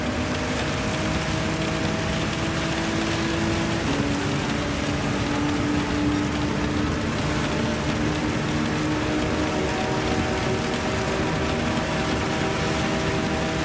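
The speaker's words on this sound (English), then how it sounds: "It's going to be fairly solid rain for a while." Steady rain hissing down during a Gran Turismo 7 race, a dense, continuous wash of noise with a faint engine drone underneath, constant in level throughout.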